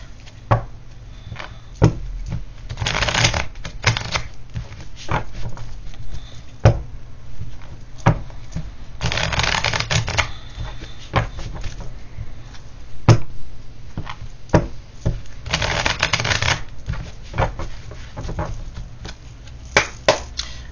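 Tarot cards are shuffled in repeated bursts, crisp riffling flutters separated by sharp taps and knocks as the deck is squared, close and fairly quiet with no talk.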